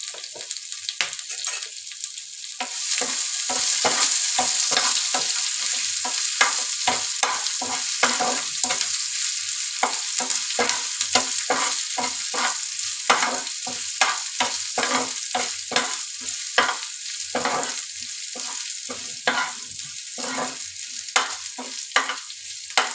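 Ginger, garlic and curry leaves crackle and sizzle in hot tempering oil for a tomato rasam, a steady bright frying hiss broken by rapid pops and stirring scrapes, close and loud with no talking.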